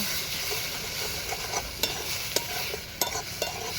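Egg is stirred and scrambled in a frying pan with onion, a soft steady sizzle broken by a few sharp scraping clicks of the spatula, with no voices.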